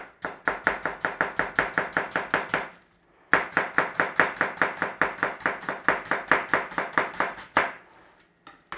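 A knife slicing cabbage thinly for a savoury cabbage, potato and cheese tart, with a rapid, even run of crisp chopping strokes on a board. The strokes pause briefly, then a second quick burst follows, close and clear with no talking.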